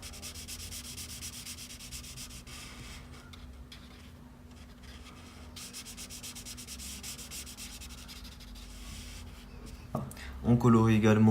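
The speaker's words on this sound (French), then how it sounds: "on va venir colorier tout ce qui est en bois" A Potalo Brown colored pencil shades the wooden parts of a Fortnite cannon drawing, giving close, steady, scratchy rubbing strokes on paper that run continuously, with a brief louder sound near the end.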